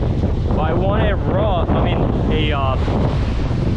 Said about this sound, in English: That wind is kind of picking up too